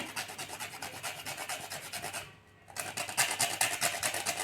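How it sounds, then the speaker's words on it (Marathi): Whole nutmeg rasped on a hand grater for ladoos, a dry, rhythmic scraping of quick repeated strokes close by, pausing briefly midway before resuming a little louder, with no talking. "जायफळ किसून टाकायचं आहे"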